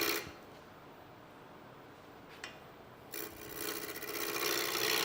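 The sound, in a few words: roughing gouge cutting wood on a lathe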